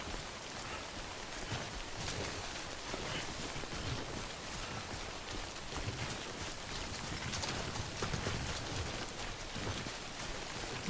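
Steady rain falls in the video game Death Stranding, a soft, even hiss of drops with a faint patter throughout, quiet and unbroken by voices.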